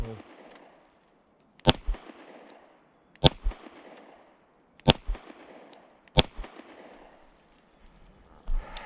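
A CZ Shadow 2 Compact pistol fires single rounds at a range, four sharp, loud cracks spaced about one and a half seconds apart, each with a brief echoing tail and quieter knocks between.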